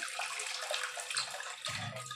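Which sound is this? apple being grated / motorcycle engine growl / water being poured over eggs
water being poured over eggs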